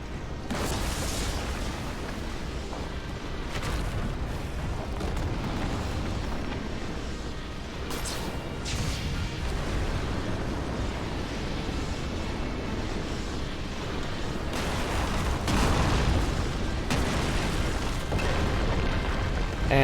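Meteor explosions in the video game Final Fantasy XIV, a steady roar of rumbling booms and bursts with sharper blasts at intervals, dense and continuous throughout.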